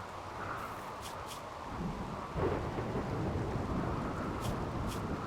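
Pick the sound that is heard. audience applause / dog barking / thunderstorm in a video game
thunderstorm in a video game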